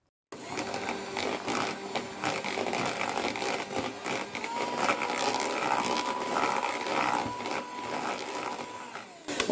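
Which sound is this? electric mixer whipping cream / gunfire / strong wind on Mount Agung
electric mixer whipping cream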